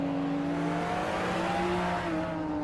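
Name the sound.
2008 BMW Z4M Coupe GT racing at Pergusa, video game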